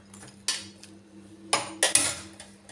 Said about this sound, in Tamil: இதில் வந்து முந்திரி திராட்சையும் போட்டு மிக்ஸ் பண்ணிவிட்டு